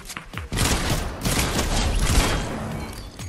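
Dense, sustained video game gunfire rattles loudly after a brief pause, a continuous burst of rapid shots lasting about three seconds with no voice over it.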